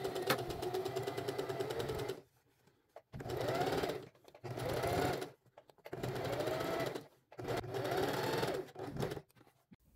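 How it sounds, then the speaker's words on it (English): A sewing machine runs top stitching around the edge of a lined fabric tote bag in four or five bursts of steady rapid stitching, separated by short pauses, close and fairly quiet. "I'm also going to do a top stitch around the perimeter of that bag"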